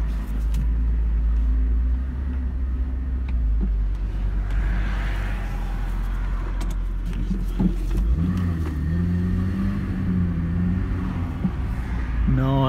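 A car engine rumbles up close as the car is driven and swung round to park, with a low steady drone that shifts pitch partway through as it revs and turns.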